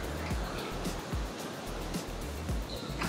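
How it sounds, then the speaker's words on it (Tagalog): Strong ocean waves on a Palawan shore near Sabang: a loud, continuous rushing surf with repeated low crashing swells, close by and dominating the scene, with no talk. "Lakas ng alon."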